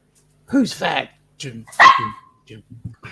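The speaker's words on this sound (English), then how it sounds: "Was that you that barked" A dog gives a few short, sharp barks near the microphone between bits of casual conversation, with people chatting over and around them.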